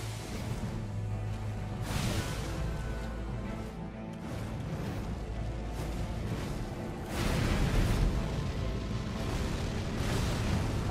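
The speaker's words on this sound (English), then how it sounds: "Just a couple explosions," Explosions in the video game Elden Ring, a series of heavy booms and bursts across roughly eleven seconds, with low rumbling that swells and fades between blasts and grows louder toward the end, with no talking.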